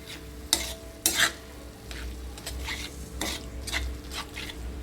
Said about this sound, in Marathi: मध्ये पूर्ण आपण अंड फोडले हे सगळं मिक्स करायचं